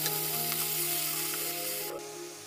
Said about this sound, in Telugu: ఇవి వేగిన తర్వాత టమాటా ప్యూరీని వేసుకొని ఫ్రై చేసుకోవాలి.